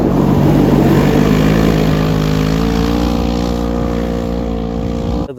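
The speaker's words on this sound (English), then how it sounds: "Out in the back, we've got the HMF exhaust. Sounds good and looks good." A 2019 Polaris General 4 1000 side-by-side fitted with an HMF exhaust drones loudly and steadily close by, its engine note sliding slightly downward as it settles, with no talking.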